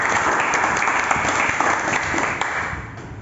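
A vocational class applauding after a student presentation on body filler sanding, loud steady group clapping that eases slightly toward the end.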